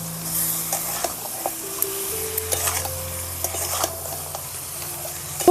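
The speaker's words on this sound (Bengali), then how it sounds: "দিয়ে মাংসটাকে ভালো করে কষিয়ে নেব।" Duck meat sautéing in a pan gives a continuous close sizzle, broken by irregular scrapes and taps from a spatula stirring against the pan, with a louder knock at the very end.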